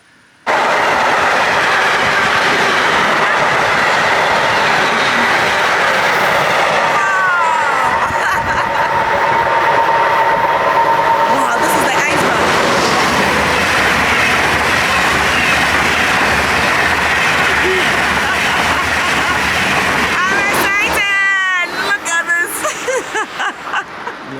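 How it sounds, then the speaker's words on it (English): Passenger train in Germany rolling along the rails, a loud, steady rumble with clickety-clack and squealing wheels, then a sharp burst of screeching near the end as it brakes. "the train is going to be delayed for 10 minutes"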